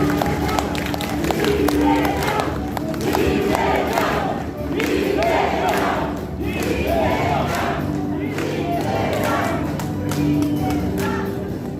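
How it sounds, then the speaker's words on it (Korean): A big crowd at a Democratic Party members' conference in Honam claps for party leader Lee Jae-myung, with loud, steady applause and cheering filling the hall while voices carry over it. "우리 이재명 대표님께 다시 한번 큰 박수 부탁드립니다."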